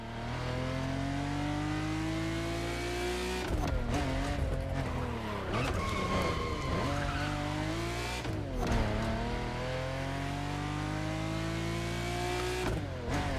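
Car driven aggressively in the video game The Crew Motorfest, with a loud steady engine drone rising through gear shifts, repeated tire squeals and skids in the middle stretch, and revving continuing to the end.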